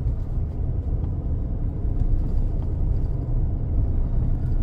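A 2024 Chevy Silverado 2500HD Denali diesel pickup rolls over a bumpy road, a steady low rumble of engine and road noise from inside the cab with no talking.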